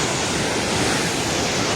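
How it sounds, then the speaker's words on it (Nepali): Rushing flood water of the Trishuli river in Nepal makes a dense, steady roar that stays loud and close throughout, with no voices. "पानी नजिक आइसकेको छ"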